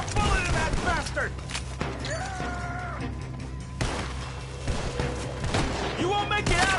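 Gunfire in a Red Dead Redemption 2 story mission: scattered shots and sharp impacts mixed with shouting voices and game sounds, the shots irregular and fairly close.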